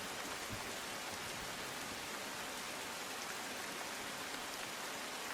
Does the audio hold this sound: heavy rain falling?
yes